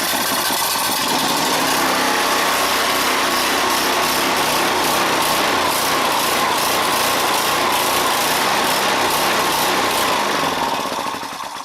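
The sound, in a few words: small snowblower engine starting and running rough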